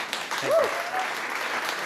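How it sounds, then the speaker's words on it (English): An audience applauds at a startup competition during a summit event, a brief burst of clapping under a voice speaking over it. "We have to give him a round of applause."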